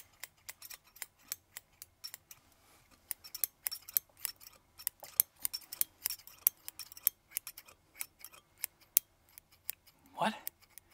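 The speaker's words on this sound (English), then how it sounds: "You want me to try 6 scissors at once?" Scissors in an ASMR fake haircut give rapid, crisp, close-up snips in uneven bursts, quiet and intimate, with a brief voice rising near the end.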